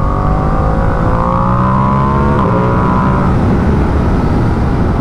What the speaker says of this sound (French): il y a juste le bruit de l'échappement qui est vraiment à chier